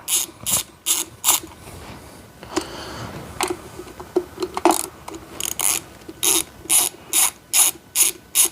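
A 3/16 tool ratchets out the screws of an InSinkErator garbage disposal. Close, crisp bursts of rapid clicking repeat in short strokes, pause briefly partway through, then return in a regular rhythm.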